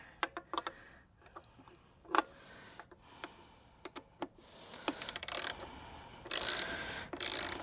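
A hand ratchet working on the muffler bracket bolt of a 2018 Kawasaki Ninja H2 SX, quiet scattered clicks and short bursts of rapid ticking, close up with no voices.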